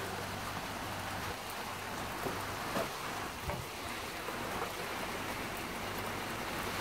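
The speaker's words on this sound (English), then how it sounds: "As you can hear, the fucking rain coming down." Heavy rain pours down outside an open door, a continuous dense hiss of drops splashing on the ground, steady and fairly close, with a few brief knocks and no talking.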